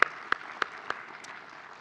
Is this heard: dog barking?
no